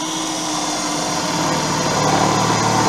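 A drill bit bores into the sheet-metal chassis of a Citroën 2CV, giving a steady, close, loud whine and grind that rises slightly in intensity as the cut proceeds.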